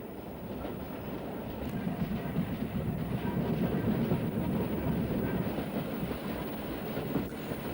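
A 1950s branch-line train on the Strawberry Line climbs a 1 in 56 incline through a cutting, a continuous low rumble with rhythmic rail clatter that builds slightly and then holds steady.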